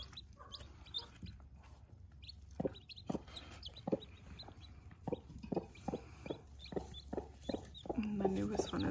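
Hens clucking to their chicks while teaching them to eat watermelon in an urban backyard flock, with soft repeated clucks in a steady rhythm and faint chick peeps, close and fairly quiet, with low talk now and then.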